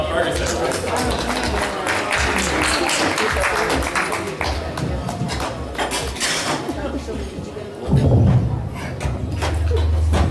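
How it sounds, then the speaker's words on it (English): At a speaking event, a crowd applauds with a dense, uneven clatter of clapping that keeps going for about ten seconds, with some voices and a low thump near the end. "give a round of applause to Mr. Stefan Ferguson"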